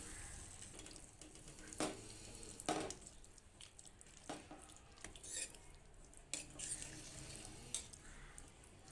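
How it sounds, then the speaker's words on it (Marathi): Fried peanuts stirred into eggplant bharit in a pan, with soft sizzling and repeated clinks and scrapes of a spoon against the pan at an irregular pace, fairly quiet and close. "आता सर्वात शेवटी यामध्ये तळलेले शेंगदाणे टाकून पुन्हा परतून घेऊया"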